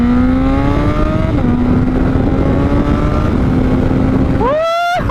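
Honda CBR600RR sport bike fitted with a Toce exhaust and quickshifter, engine note rising in a loud steady pull, a quick shift dropping the pitch, then a sharp rev climb near the end; up close with wind noise.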